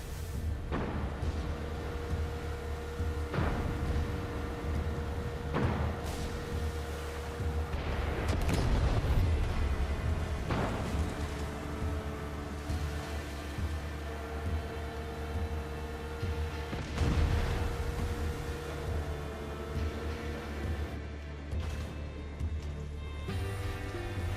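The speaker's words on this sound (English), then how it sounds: "Check out the fireworks!" Fireworks go off in Far Cry 6, a run of booms and crackling bursts spread over the stretch, with denser clusters of blasts in the middle and again near the end, set over a steady low rumble and with no voices.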